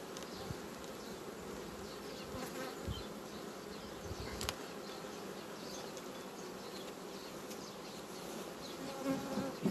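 A dense, steady hum of many honey bees buzzing close by around hive frames fills the whole stretch, continuous and unbroken, with no voices.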